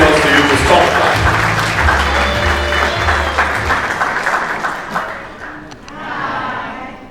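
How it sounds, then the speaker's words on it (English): A book-launch audience breaks into sustained applause, loud and dense for several seconds before tapering off, with a low hum and voices mixed underneath. "Clap, please, for Ariana Galani as she comes up on stage to introduce Martha."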